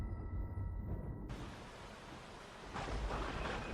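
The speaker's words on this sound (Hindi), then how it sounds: "बाहर बहुत जोरों की बारिश थी।" Heavy rain hisses as a dense, steady roar, with low rumbles of thunder beneath, swelling louder toward the end.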